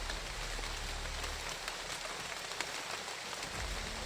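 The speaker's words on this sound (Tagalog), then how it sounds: "Sobrang lakas ng ulan ba." Heavy rain pours steadily onto a surface, a dense continuous hiss with low rumbling underneath, close and loud throughout, with no voices.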